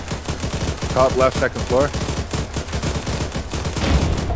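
Rapid bursts of gunfire from the military video game ArmA, loud and close, sounding repeatedly over several seconds while a voice gives a brief callout.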